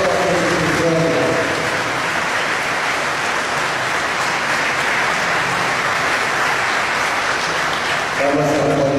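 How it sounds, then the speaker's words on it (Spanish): An audience at an 83rd anniversary celebration gives a sustained round of applause for the authorities and institutions. The clapping rolls on evenly, with a voice heard briefly at the start and again near the end. "Vamos a dar un fuerte aplauso a nuestras autoridades, a todas las instituciones."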